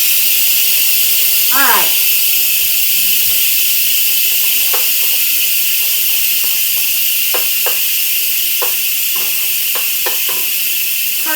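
Steam hisses steadily from a pot on the stove while spaghetti squash and meat sauce cook, a constant bright rush running through the whole stretch, with scattered clicks and a brief voice speaking over it.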